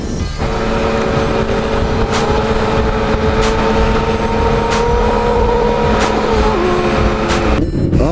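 Loud, close engine drone from a Yamaha FZ-09 motorcycle ride, with sharp whooshes of vehicles passing by and a steady tonal whine throughout.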